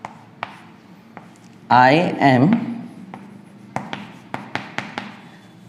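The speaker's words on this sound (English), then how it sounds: "I'll write the sentence so you will understand" Chalk or marker scratches out a sentence on a board in a quick burst, followed by a run of sharp taps and strokes, with a person talking nearby.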